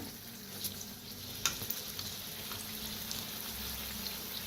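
Kachori deep-frying in oil gives a steady, fairly quiet sizzle and bubble throughout, broken by a few small clicks and knocks as the pieces are turned.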